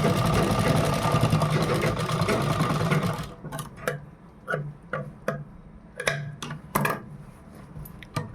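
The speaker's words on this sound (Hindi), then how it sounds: "अब इस पे हम एक पलट सिलाई लगा देंगे" A sewing machine stitches a designer V-neck blouse, running in a loud continuous whir for about three seconds, then giving way to a series of separate clicks and short mechanical taps as the fabric is handled.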